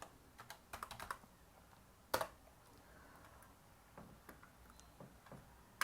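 Computer keyboard being used to enter an email address and password, with quiet, close keystrokes coming in scattered small clusters and a few sharper clicks between longer pauses.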